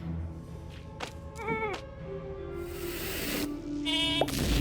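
Sheep bleating in the Phobies mobile strategy game, a few short wavering game-audio bleats over layered music and effects, fairly prominent in the mix.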